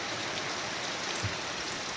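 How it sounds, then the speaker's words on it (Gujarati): Steady rain pours down and patters on surfaces in an even, continuous hiss, with no voices and no pauses. "ત્યારે વરસાદ આવી ગયો"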